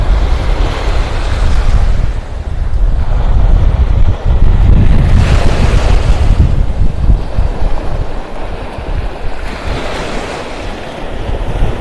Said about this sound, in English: Feels like that wind is coming out of the southeast, maybe.